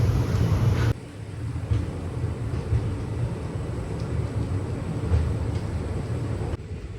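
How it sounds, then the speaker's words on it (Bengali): A late-running passenger train pulls out of platform 3 at Digha railway station at night, giving a steady loud rumble of wheels and carriages that runs throughout with faint clanks and a slight drop in level near the start. "আর আমাদের ট্রেন এখন ছেড়ে বেরিয়ে যাচ্ছে দীঘা রেলওয়ে স্টেশনের 3 নম্বর প্ল্যাটফর্ম থেকে।"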